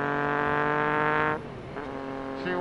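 Triumph Daytona sport motorcycle engine revving hard and loud and close, holding a rich harmonic drone, then dropping sharply as the throttle shuts before rising again briefly.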